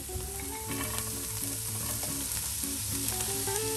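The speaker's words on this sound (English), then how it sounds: "we do have enough oil in there so you can hear the sizzle" Steady, continuous sizzling of carrots and onions frying in hot oil, close and fairly loud, with no talking.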